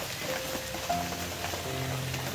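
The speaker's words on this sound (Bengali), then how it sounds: "বৃষ্টি হচ্ছে, কত ভিজবে বৃষ্টিতে" Steady rain patters on a surface, with faint tonal hums drifting in the background.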